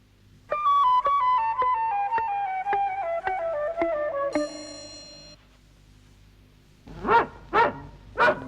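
Cartoon dog barking: three loud, close barks in quick succession after a descending series of plinking musical notes and a short chime, with no talking.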